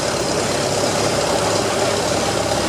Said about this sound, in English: We have another evolutionary period gasoline tractor. This is a roughly 12 and 1/4 horsepower machine.